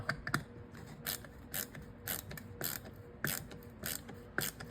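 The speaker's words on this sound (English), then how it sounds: "Let's go ahead and see how it works on a number 2 Phillips wood screw." Husky ratcheting stubby screwdriver turning a number 2 Phillips wood screw to tighten it, giving a steady run of close, crisp ratchet clicks in short repeated bursts with brief pauses between strokes.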